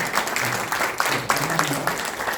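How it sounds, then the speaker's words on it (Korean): Audience applause thanking a professor after a lecture at a civic movement's founding rally, dense and steady with a few sharper claps standing out for a couple of seconds. "귀한 명강의를 해주신 우리 김영석 교수님에게 다시 한번 감사의 박수를 드리겠습니다."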